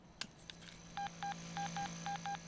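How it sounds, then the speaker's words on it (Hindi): Telephone keypad dialing in a Hindi-dubbed South Indian action film, six or so crisp touch-tone beeps in an even sequence after a few faint clicks, over a quiet room hum. "क्या आप उसे फोन लगा देंगे?"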